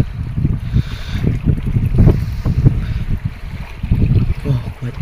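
Strong wind buffets a boat at sea in bad weather, gusting and rumbling against the microphone in uneven surges, close and loud, with faint voices in the background.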